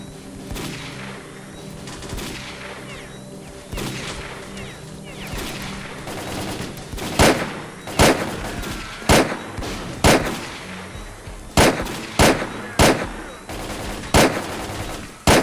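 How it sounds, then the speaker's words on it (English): Sniper rifle gunfire in a video game against armored enemies: after a busy stretch of background game sound, a string of loud, sharp single shots lands roughly a second apart, each one a separate crack. "Let me get my sniper out."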